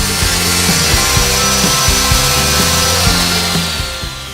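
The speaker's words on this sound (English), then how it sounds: "Now over to the miter saw to quickly cut that down to length." A miter saw cuts through 1/4 inch plywood for Lego tray dividers, a loud steady whine with repeated rhythmic grinding pulses that tapers off at the end, with no talking.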